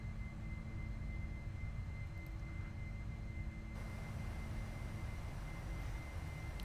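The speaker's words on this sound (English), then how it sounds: "That thing will friggin' blow out your damn eardrums anytime you hear a friggin' MU2." Loud, steady engine drone of a Mitsubishi MU-2 twin turboprop in a flight simulator, a continuous low roar with constant tonal whine layered over broadband rush, filling the whole span without pause.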